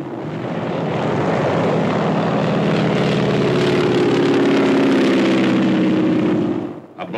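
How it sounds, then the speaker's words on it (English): Low-flying propeller warplanes roar past while strafing in a 1945 Pacific war newsreel, a loud sustained engine drone with a rising and steady pitch that holds for several seconds before cutting off abruptly at the end. "Low-flying planes strafe the enemy."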